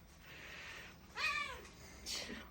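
A cat meows softly twice, a drawn-out mew followed by a shorter one, faint against a quiet room.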